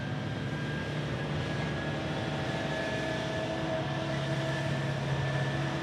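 An F-16 fighter jet taxis at Tucson International Airport, its engine a steady, loud roar with a sustained whine, continuous and unbroken throughout with no talking.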